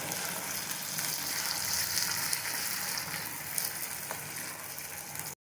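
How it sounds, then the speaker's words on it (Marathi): Ginger-garlic paste sautéing in a pan for Vidarbha-style dahi misal, giving a steady close sizzle with faint stirring scrapes and no talk. "यात आला लसूण पेस्ट आपण घालूया आता आपण मिक्स करून छान एक मिनटं परतवून घेऊया"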